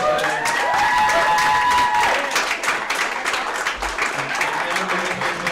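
An audience at a women's pool tournament finals gives steady applause with some cheering, a whistle-like tone rising over the clapping early on, continuing evenly for several seconds.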